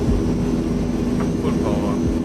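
Airliner engines spool up as the throttles advance for takeoff in Microsoft Flight Simulator 2020, a loud, steady low roar with a droning engine tone that holds without pause.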